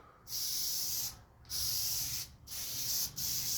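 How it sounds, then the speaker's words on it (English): Three long hissing bursts of spray adhesive from an aerosol can onto foam, each lasting about a second with short gaps between them, close and loud. "I'm spraying both sides with glue that I'm going to glue together"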